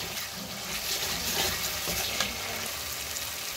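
Onion paste and ginger garlic paste fry in hot oil, a dense steady sizzle with faint crackles throughout, close and even.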